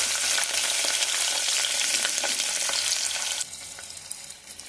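Green chilies and onion fry with spices in hot oil, giving a loud, close, continuous crackling sizzle that drops to a quieter hiss near the end, with no voices.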